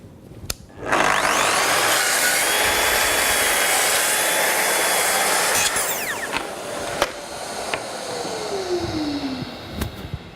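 A Festool HK 55 circular saw spins up and cuts along a board to trim it, a loud whining rip for about five seconds, then winds down with a fading whirr and a few knocks.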